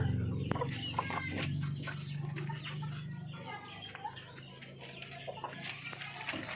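Orpington chickens clucking nearby at feeding time on a small farm, a few soft clucks and squawks over low background noise with brief faint talk.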